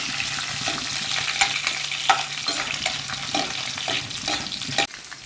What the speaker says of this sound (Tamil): பூண்டை போட்டு நல்லா வதக்கிக்குவோம்.